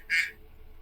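A person imitates a duck with one short, nasal quack, loud and close, followed by quiet.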